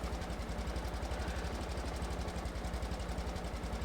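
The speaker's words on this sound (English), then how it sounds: "Oh wow, this has a weird engine sound." Kart engine from the Mario Kart 8 Deluxe video game, a steady buzzing drone with a fast regular pulsing throb throughout, fairly loud and alone.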